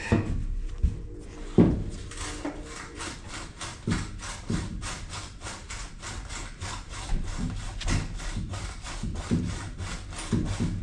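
A reciprocating saw cuts off an old elbow on a White 4-270 tractor, giving a steady run of rhythmic rasping strokes close by, with a few sharper knocks and clunks in between and no talk.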